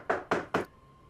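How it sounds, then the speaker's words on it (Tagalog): Three sharp, evenly spaced knocks strike a door in quick succession, close and loud, with silence after the last one. "Hoy, Lala, may kumakatok."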